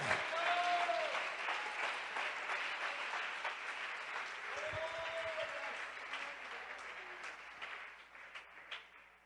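A church congregation applauds during a sermon, dense clapping that starts strong and slowly fades, with a voice briefly calling out over it.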